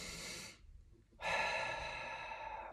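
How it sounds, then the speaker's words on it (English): A person breathing slowly during a desk yoga exercise: one long, audible breath, then a short pause, then a second, fuller breath that trails off, close and quiet with no talking. "we start to breathe"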